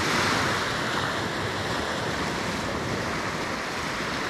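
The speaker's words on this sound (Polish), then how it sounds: "No i ten szum. Szum fal, który porywa większość." Baltic Sea surf washes onto the shore near Władysławowo as a broad, steady roar of breaking waves, constant and fairly loud, with some wind in it and no voices.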